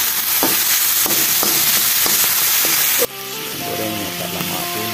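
Sago grubs (ulat mulung) sizzle steadily while frying in a pan, loud and close, with occasional stirring clinks; the hiss drops sharply partway through and continues more quietly.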